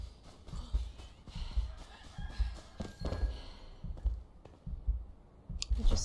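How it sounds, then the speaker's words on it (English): Rooster crows ring out among clicking and thumping game sounds in Enshrouded, fairly close and repeated over a busy background. "the roosters going off, so that's good"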